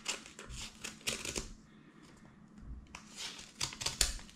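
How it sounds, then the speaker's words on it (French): Small scissors snip and cut into a parcel's packaging at close range, in short crisp bursts with a brief quieter gap midway, followed by more rustling cuts. "On sort les petits ciseaux et on doit essayer d'ouvrir ça proprement."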